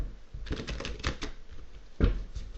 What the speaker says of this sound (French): moi je brasse le jeu